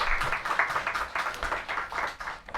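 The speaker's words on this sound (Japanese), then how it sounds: "もう一度大きな拍手をお願いします" Members of a church congregation at a Sunday worship service clap together, a faint, somewhat rhythmic patter of hands pulsing in uneven bursts for a couple of seconds.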